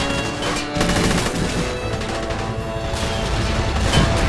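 Tank battle in a war video game featuring T-54 and IS-1 tanks, with continuous heavy gunfire and booming blasts filling the whole stretch at a loud, dense level.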